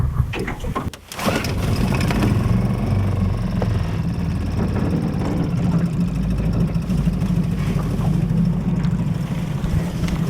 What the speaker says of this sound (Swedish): Ska vi se om vi kan starta motorn där.